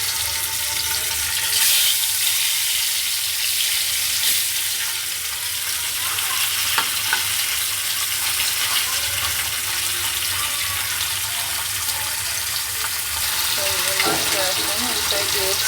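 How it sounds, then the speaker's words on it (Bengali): Shing catfish pieces fry in hot oil in a wok, giving a steady, bright sizzle that hisses on throughout with a few spits and pops, while faint voices come through in the background. "এখন এটা আপনার মাছগুলা ভেজে নিব।"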